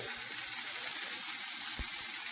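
Deer and beef burger patty frying in a pan, a continuous bright hiss of sizzling fat, steady and close, with one brief thump near the end.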